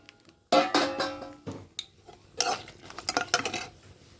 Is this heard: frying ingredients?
yes